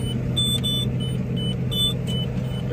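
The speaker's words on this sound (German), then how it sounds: "Wir fahren los, setzen jetzt runter" Case IH tractor pulling off with a seed drill on a field: a steady low engine rumble runs throughout, with short electronic beeps repeating from the cab.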